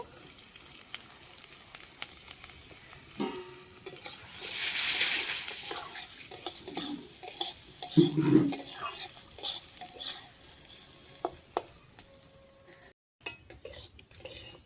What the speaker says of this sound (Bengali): ডালটা প্রায় ভাজা হয়ে এসছে একটু লাল লাল করে ভেজে নিতে হবে